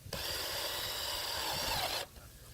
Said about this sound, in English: We're going to drill right into the side.